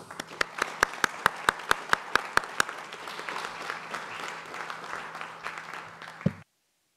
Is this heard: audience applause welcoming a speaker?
yes